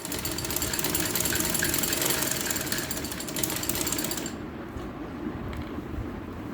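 A sewing machine stitches a shirt collar with a dense, rapid mechanical whirring and clatter. It runs steadily for about four seconds, then stops, leaving quieter background noise.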